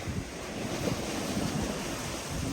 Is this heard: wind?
yes